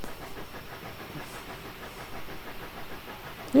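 Live steam injectors on an AT&SF Northern steam locomotive in Train Simulator Classic give a steady, even hiss of steam with a faint rhythmic engine undertone, moderately loud and continuous.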